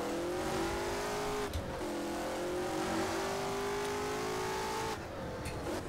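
Race car engine in the rFactor video game holds a loud, sustained, rising whine, with two gear changes dropping the pitch before it climbs again, and no other sounds over it.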